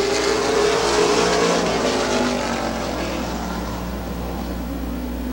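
Stock race cars roar off turn 4 at Midvale Speedway as they take the green flag, their engines loud and sustained, then easing slightly as the pack moves away.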